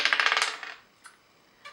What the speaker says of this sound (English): I'm rolling dice.